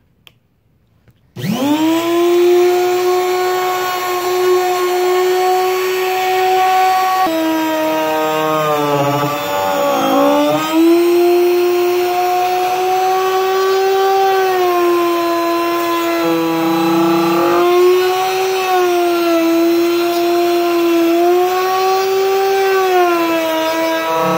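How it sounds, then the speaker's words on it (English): A power planer makes a final flattening pass across eastern red cedar being shaped into dishes. It spins up from silence into a loud, sustained, high whine, and the pitch sags briefly a few times as the cutter bites into the wood. "now we're gonna set our depth for the final cut, and this will flatten it out really nice"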